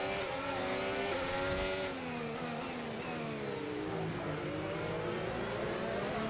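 A Formula 1 car engine in a racing video game at Monaco gives a steady, high-pitched whine. Its pitch sweeps up and down as the car shifts and accelerates, running continuously with no talk.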